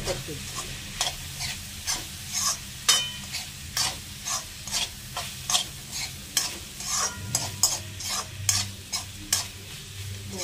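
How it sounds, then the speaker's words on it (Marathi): Leftover cooked rice and pieces of raw green mango sautéed in a pan, with a spatula scraping and stirring in regular strokes over a steady close sizzle, no voices. "त्याचबरोबर ही थोडी कैरी आहे ती पण घालायची. हे असं छानसं परतून"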